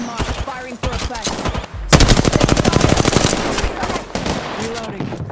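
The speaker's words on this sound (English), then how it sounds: "Firing for effect." Rapid automatic gunfire from light weapons in Apex Legends rings out in a loud, sustained burst of evenly spaced shots lasting a few seconds. Short voice-like sounds come before and after the burst.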